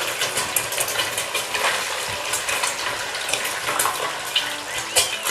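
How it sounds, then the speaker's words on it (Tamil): Four eggs are poured into hot oil in a pan and hiss in a steady, loud sizzle with bubbling and crackling throughout. It sounds close, and no one speaks. "இப்போ நம்ம ஒரு 4 முட்டையை ஊற்றிக்கலாம்."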